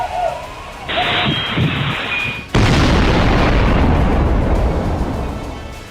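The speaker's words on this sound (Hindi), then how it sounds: "यह विस्फोट टेनेसी के AT&T कम्युनिकेशन बिल्डिंग के सामने खड़ी एक कार में हुआ।" Car bomb explosion in front of the AT&T building in Nashville: a sudden loud boom cuts in over a quieter scene, followed by a long, dense rumbling roar that slowly fades.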